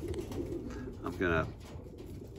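Breeder pigeons in a loft, a Czech cock among them, give a short throaty coo that rises briefly amid quieter background, with someone talking nearby.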